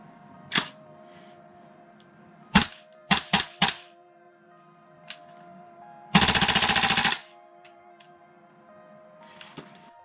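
A gas blowback airsoft CAR-15 XM177 rifle fires a few sharp single shots, then a quick burst of three, then a brief loud full-auto string, with a couple of faint clicks after. The shots are close and clear over a quiet room.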